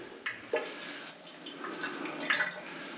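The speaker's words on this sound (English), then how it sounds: "at least we've got water coming through there, and we're running out in the waste" Water from newly connected plumbing runs into a waste pipe during a home renovation, heard as a soft, low-level trickle and splash with a few drips, fairly quiet and steady.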